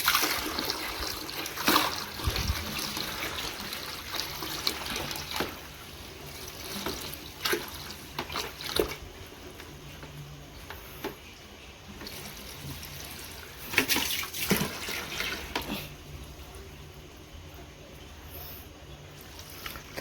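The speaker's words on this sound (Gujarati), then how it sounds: "તો હું પાણી ભરું છું." Water runs from an outdoor tap during the early-morning supply as containers are filled, a continuous close trickle and splash with intermittent louder gushes and clanks over twenty seconds.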